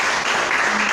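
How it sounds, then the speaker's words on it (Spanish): Church congregation applauding during a sermon, a brief, steady wash of many hands clapping together at close range, with no voices on top. "Den un aplauso al Señor"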